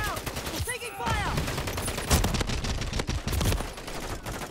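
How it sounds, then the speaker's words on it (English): Dense rapid gunfire in the Modern Warfare III video game, bursts of overlapping shots crackling continuously and fairly close, with voices shouting over the firefight. "We're taking fire!"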